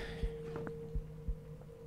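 Pounding heartbeat in the horror game Minds Eyes, as a few low, muffled thuds spaced unevenly over a steady droning hum, with a faint higher tap mixed in and no voices.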